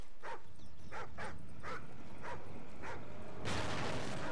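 A dog in Call of Duty: Ghosts barks in a series of about six sharp, evenly spaced yaps, followed by a burst of broadband noise near the end.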